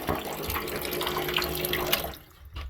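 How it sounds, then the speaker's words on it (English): A small electric water tap in a caravan runs in a steady, close splashing stream that cuts off abruptly near the end. "Yeah, so that's me little electric water tap,"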